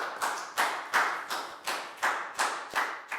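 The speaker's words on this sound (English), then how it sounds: "Big round of applause for Nadia" A Year 4 maths class giving a round of applause as a few slow, even, steady claps, about eight in a row, close and distinct rather than a full crowd.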